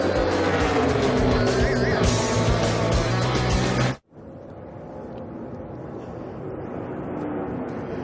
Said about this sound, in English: you see some of the cars on fresher tires just off the pit lane going by the race leader McMurray